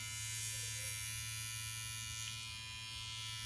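An Elite tattoo pen machine running at 6.5 volts, giving a smooth, steady, continuous electric buzz at low volume with no talking over it.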